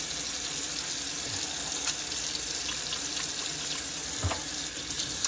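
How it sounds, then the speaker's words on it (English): Tap water running steadily into a sink as hands are washed beneath it, a soft continuous splashing hiss with a few small bumps and splatters; no voices. "I want to wash my hands real good."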